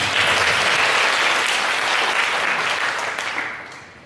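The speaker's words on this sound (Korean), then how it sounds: "하나님께 감사 영광 박수 올려드리도록 하겠습니다." A church congregation claps together during a Sunday morning worship service, a dense, steady wash of applause that holds evenly before tapering off near the end.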